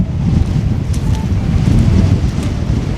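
Strong wind buffets the microphone outdoors with a continuous low, rumbling roar that swells and gusts unevenly and stays loud for the whole stretch.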